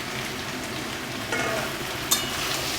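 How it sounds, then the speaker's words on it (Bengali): Pumpkin, potato, pui shak and shrimp fry together in a pan with a constant soft sizzle, broken by a brief utensil clink near the end, heard up close with no talking. "এবার সব কিছুই কিন্তু ভালো করে আমি একটু ভেজে নিচ্ছি"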